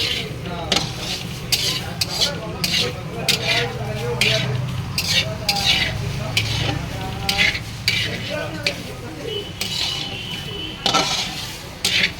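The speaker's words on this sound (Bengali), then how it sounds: "ভেজে নিচ্ছি আমি চালটা" Rice frying in a pan for bhuna khichuri, stirred constantly, makes a busy close sizzle crowded with rapid scraping and clattering strokes of the spoon against the pan, running without a break.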